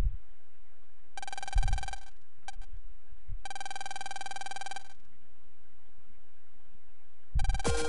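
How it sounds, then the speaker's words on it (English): In the Mega Man Battle Network 2 video game, a phone rings in electronic bursts of bright, tonal trills, three longer ring blocks separated by silent gaps, plus a brief blip and a final burst starting at the end. "phones ringing."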